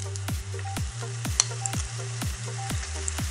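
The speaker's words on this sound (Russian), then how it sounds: "Также обжариваем до золотистой корочки." Bread croutons sprinkled with sugar frying golden in a pan, a continuous sizzle under a steady low hum broken by regular rhythmic whooshing sweeps, no voices.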